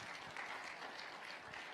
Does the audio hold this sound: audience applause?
yes